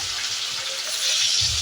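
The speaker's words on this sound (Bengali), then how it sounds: "দেখো মাছগুলো আমি তেলের মধ্যে ছেড়ে দিচ্ছি।" Pieces of rohu-type carp fish, cut into chunks, dropped into hot oil for a tamarind sour curry, giving a steady broadband sizzle close by, rising slightly louder after a second.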